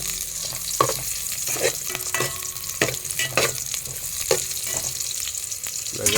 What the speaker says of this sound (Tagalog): Konting gisa lang